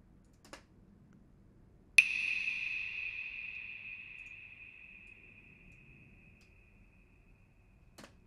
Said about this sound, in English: It's a clave with a whole heap of reverb.